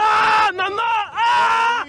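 A man who glued himself to concrete at a protest screams as police pull him free, giving two long, loud, strained wails with a short break between them.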